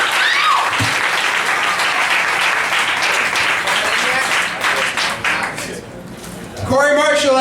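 Sustained, loud audience applause and cheering for a comedian at a live comedy night at Cafe Diem in Richmond, a dense wash of clapping that thins briefly near the end before a voice starts talking.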